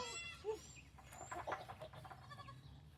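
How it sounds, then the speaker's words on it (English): Goats bleating nearby in short wavering cries, mixed with faint outdoor background noise. "These goats are having a crazy day,"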